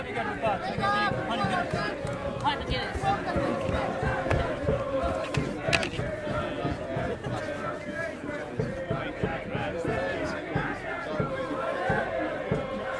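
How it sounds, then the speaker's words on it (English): A crowd of roughly three hundred at an amateur football match against London Samurai Rovers keeps up a steady, busy roar of shouting and chatter from the stands, with a voice speaking over it. "As you can hear, we've got a big crowd in today."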